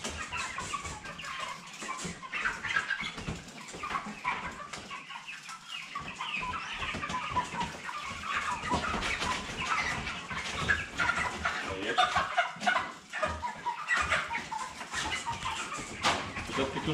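Broiler chickens cluck continuously around a rooster, close and fairly quiet, with scattered crowing notes and rustling over several seconds.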